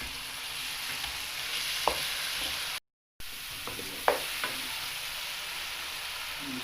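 Spices fry and get stirred in a pot for Shahi Kofta, giving a continuous close sizzle with a few spoon knocks and a short silent gap partway through.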